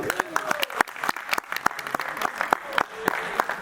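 A wedding congregation claps together for Jesus in a church service, an irregular patter of many hands with sharp individual claps standing out, and voices calling over the applause.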